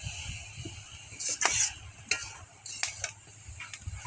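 Cabbage with prawns stirred in a pan on a wood or clay stove, quiet scraping and clinking of a utensil against metal over a faint sizzle, in short irregular bursts.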